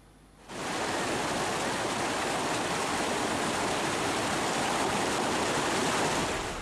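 The swift current of the Regoyo River in Lumajang, East Java, after cold lava flooding from Mount Semeru, heard as a loud, steady, broadband rush of water that starts abruptly and continues without pause, with no talking.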